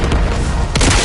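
Gunfire and explosions in the video game Call of Duty: Black Ops 6, a dense, loud, continuous barrage of booms and shots with a sharper blast near the end.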